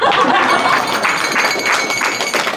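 Crowd of listeners applauding a singer's performance at a Telugu music event, a dense, steady wash of many hands clapping throughout, fairly loud and close, with no speech over it.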